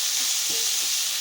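Bottle gourd and shrimp seasoned with turmeric and salt are stirred in a frying pan, giving a brief faint sizzle with soft scraping.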